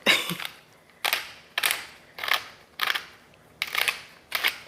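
Seasoning of onion powder, garlic powder and paprika being ground with a hand grinder, seven evenly spaced crisp ratcheting bursts, close and fairly quiet, with no talking.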